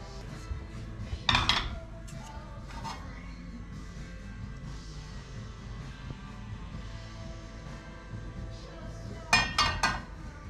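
A frying pan clanks as it is handled while olive oil goes in for garlic prawns with sweet and sour sauce: two short metallic clatters, one early and one near the end, over a quiet kitchen background.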